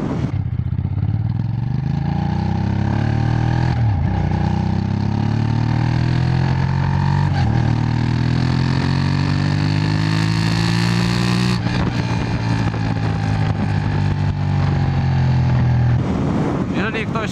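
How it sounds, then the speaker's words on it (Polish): A loud Aprilia Shiver 750 motorcycle engine revs up through several gears, its pitch climbing and dropping at each shift, exhaust burbling and popping, with wind rushing past the microphone. "słyszę, jak bulgocze, jak strzela przy odpuszczaniu gazu"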